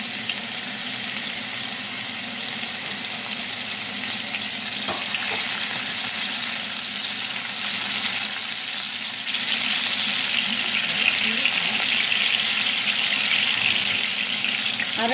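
Fish shallow frying in coconut oil for a Kerala-style fish molly, a steady broadband sizzle that holds loud and even throughout, slightly stronger in the second half, with no voices.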